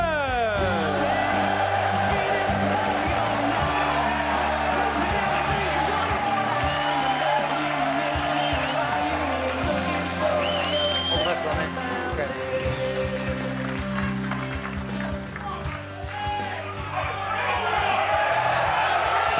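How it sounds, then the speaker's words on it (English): A raucous arena crowd at Leicester's Morningside Arena whoops and cheers before the Spreadex World Grand Prix 2024 snooker semifinal, O'Sullivan versus Ding. The dense, steady roar is heavily mixed with music and a voice speaking over it. "A pretty raucous crowd here"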